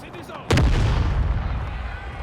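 Cannons fire canister shot on a Napoleon: Total War battlefield, with one loud, sharp boom followed by a long rumbling, crackling decay that fills the rest of the moment.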